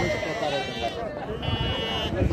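Sheep bleat now and then at a busy outdoor livestock market in Surxondaryo, among twin-bearing ewes, mixed with crowd noise and close talk.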